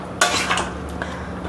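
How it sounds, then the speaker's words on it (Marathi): Chicken malai handi being stirred in a pot, one quick scrape and clatter of a spoon against the metal, followed by a soft sizzle; no talking. "चांगलं असं परत हलवून घ्यायचं"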